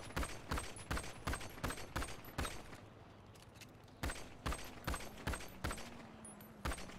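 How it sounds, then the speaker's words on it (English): Repeated gunshots crack out in quick bursts during a GTA NoPixel roleplay firefight, sharp and fairly close with short gaps between volleys, while a low engine drone hums beneath. "I'm hearing shots."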